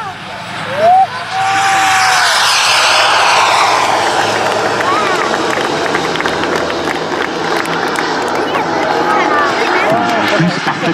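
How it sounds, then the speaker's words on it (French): A jet aircraft makes a slow-speed pass at an air show, its loud, sustained engine roar swelling and then holding steady over the crowd, with a commentator talking over it. "ce que vous voyez là est exceptionnel en vitesse lente pour un jet"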